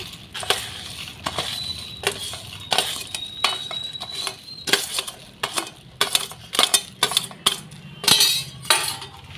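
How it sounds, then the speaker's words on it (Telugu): Homemade boondi being stirred into hot sugar syrup for a sweet-shop style karakajjam, with repeated sharp scraping and clinking of a spoon against a metal pan in irregular bursts, close up, no talk. "ఈ పాకంలో మనం చేసి పెట్టుకున్న బూందీని వేసేద్దామండి"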